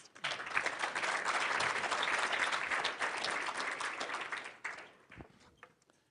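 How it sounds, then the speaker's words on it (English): Audience applause for panelists at a Churchill Club talent-strategy panel event, a full steady round of clapping that tapers off into scattered claps and quiet. "One more round of applause for our panelists."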